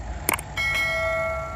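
A bell-like notification chime rings out twice in quick succession, bright and clear, then a sustained shimmering tone holds steady to the end, standing alone without speech.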